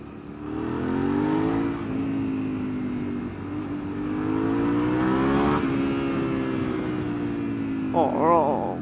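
A Suzuki SV650S motorcycle accelerating hard as the throttle is twisted open, its engine note rising in steady pulls with brief dips between gears, loud and close, with wind rush throughout and a short voice exclamation near the end.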